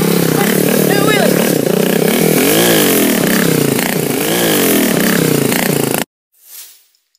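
Motorcycle engine revving hard and continuously during a wheelie, loud and close with pitch rising and falling, mixed with shouting voices, then cutting off abruptly.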